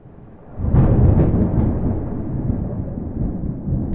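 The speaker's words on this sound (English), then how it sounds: "So then you hear the rumble of thunder, and Mary and John both look out the window," A deep, rolling rumble of thunder builds after a quiet start and stays loud and sustained, swelling and churning without a break; no voices.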